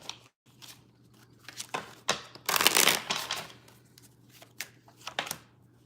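Tarot cards being shuffled by hand during a reading, a run of soft papery riffles and slides with a denser flurry in the middle, close and fairly quiet with no talk.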